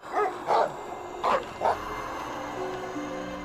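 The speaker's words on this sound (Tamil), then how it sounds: "அப்ப நாய் குலைக்கிற சவுண்ட் கேக்குது" Two dogs barking in a scene from the TV show Once Upon a Time: four short, loud barks in quick succession, fairly close, then quiet.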